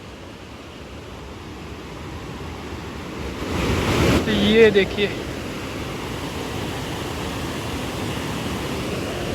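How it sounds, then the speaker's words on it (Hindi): Kakabeka Falls near Thunder Bay, Canada, roars as a steady broadband wash of rushing water, continuous and fairly distant, with someone speaking briefly over it midway. "पानी की तो आवाज़ आपको आ ही रही होगी।"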